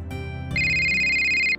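An electronic phone ringtone starts abruptly and rings loud and steady as a high, pulsing tone, close by.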